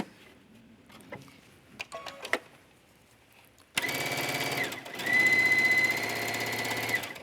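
Sewing machine running a fast straight stitch along a wide leggings waistband, with a few light clicks and handling taps first, then a loud steady mechanical whir for the last few seconds.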